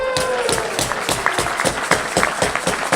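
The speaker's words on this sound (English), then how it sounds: "Please give them a round of applause." Audience applause at a Rotary Club of Tucson meeting, a dense steady patter of many hands clapping close by throughout, with no talk over it.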